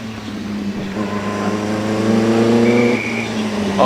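A supercharged 2.3 litre Bugatti Type 35 Grand Prix car races at the Prescott hill climb, its engine note rising as it accelerates past, loud and building before easing off near the end.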